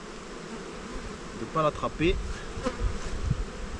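Many honeybees hum steadily around hive frames that a beekeeper is handling. The buzz runs as a continuous background drone while someone speaks briefly in French over it.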